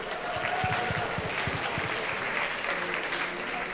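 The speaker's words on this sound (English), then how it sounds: "let's give them a big round of applause" Steady audience applause for performers at a VOMG 2017 prize presentation, a continuous crowd of clapping at moderate loudness with a few distinct nearby claps.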